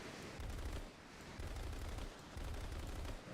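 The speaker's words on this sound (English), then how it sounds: "I don't like this cannon sounds, honestly." In War Thunder, an IXWA Strike jet fires its cannon in three rumbling bursts, each lasting about half a second, loud and close with short pauses between them.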